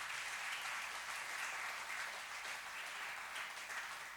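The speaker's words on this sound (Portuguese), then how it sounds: "dê uma salva de palmas a esse Deus maravilhoso" Congregation clapping together during a church service, a dense, sustained round of applause at moderate distance with no voices over it.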